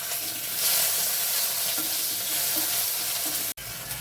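Tomato goes into hot oil with spices for a Bengali chital fish curry, bringing a loud, close, continuous sizzle with stirring scrapes and a brief drop near the end.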